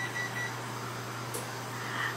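A few short electronic beeps from a kitchen timer ring out over a steady low hum, faint and spaced apart, with no talking.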